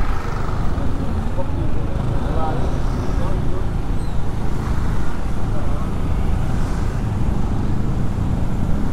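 Dense, congested night traffic on Jalan Raya Kerobokan near Seminyak, Bali: a steady, loud wash of car, truck and motorbike engines rumbling continuously close by, with people talking faintly over it.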